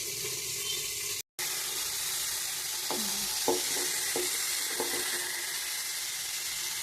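Tomatoes for chutney sizzling in a pan, a steady frying hiss with a few faint stirring clinks and a brief dropout, no voices.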